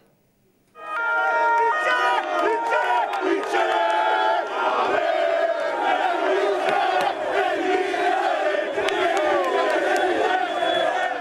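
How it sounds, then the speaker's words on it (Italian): Crowd of Napoli fans at Capodichino airport greeting the team bus, a sudden loud swell of applause and rhythmic stadium chanting that stays dense and sustained, with many voices merged together. "in centinaia per accogliere tra applausi e cori da stadio la squadra"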